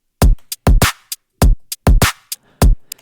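Dry EDM hip-hop style drum beat with the kick displaced by a sixteenth note, alternating punchy low kicks and sharp snare hits with short hi-hat ticks in a syncopated, loud, close pattern.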